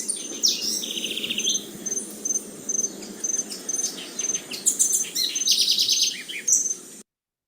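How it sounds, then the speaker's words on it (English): A recording of wild bird song made while travelling plays back as a series of high, bright chirps and rapid trills in short bursts over a quiet background, with no voices, then stops abruptly. "wherever I went, I recorded a little bit of bird song"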